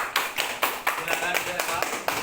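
Children clapping in an elementary classroom, a few uneven bursts of applause over about two seconds with light background chatter.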